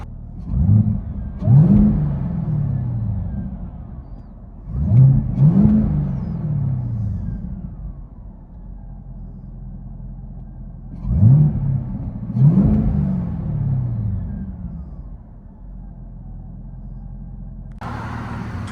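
Inside a 2018 Chevy Camaro ZL1 with a supercharged V8 and high-flow cats, the exhaust drones at idle and swells in several sharp double revs that fall back to a steady rumble, loud and enclosed.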